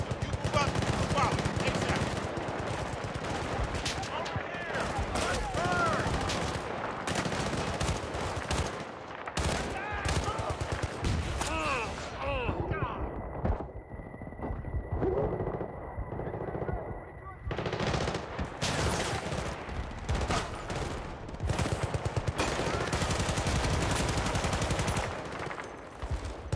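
Dense automatic gunfire rattles almost without pause in a Battlefield: Bad Company 2 firefight, loud and close, with bursts of machine-gun fire, a brief lull with a steady tone, then heavy shooting again.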